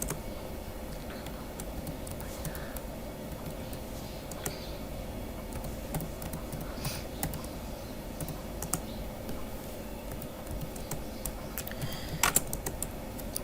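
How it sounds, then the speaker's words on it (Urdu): Typing on a computer keyboard while writing a sentence in MS Word: a steady stream of light, fast clicks at close range under a low background hum, with no one speaking. "یہاں پہ ہم اپنے کی بورڈ کو یوز کرتے ہوئے رائٹنگ سٹارٹ کر رہے ہیں"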